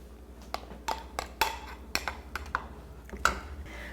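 A metal spoon stirs pureed ripe tomatoes in a cooking pot for karahi chicken, giving a string of separate knocks and scrapes spaced about half a second apart, close and fairly quiet, with no talking.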